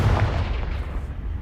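A Confringo blasting curse explodes in Hogwarts Legacy, one heavy, booming blast with a deep rumbling tail that fades over about a second.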